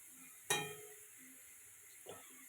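Potatoes fry in oil in a kadai while cooking ghugni, giving a soft steady sizzle broken by a sharp utensil clink near the start and a fainter knock later.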